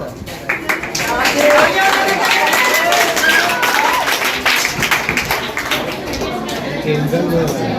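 Scattered clapping and crowd noise from a group at a children's general knowledge competition, with voices chattering over it; the applause comes in uneven bursts rather than a steady roar.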